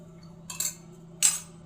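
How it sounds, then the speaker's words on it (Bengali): A spoon scrapes and clinks twice against a container while black salt is stirred into a sour, spicy and sweet olive pickle mixture in oil, two brief bright bursts over a quiet background hum. "এখন বিট লবণটাকেও এগুলোর সাথে সুন্দর করে নেড়ে"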